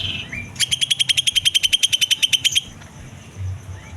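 A green leafbird (cucak ijo) sings under a cage cover, delivering a close, loud burst of about twenty rapid, evenly spaced chirping notes lasting roughly two seconds, then falling quiet.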